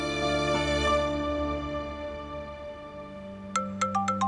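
A mobile phone starts ringing in a dubbed Turkish drama scene, with a short run of bright, rapid ringtone notes entering near the end after a soft, sustained musical underscore.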